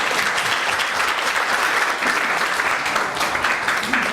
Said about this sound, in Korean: 발표해주신 팀 발표자께 박수 한번 부탁드리겠습니다